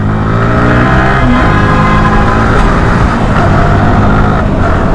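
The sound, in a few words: motorcycle with full system titanium exhaust revving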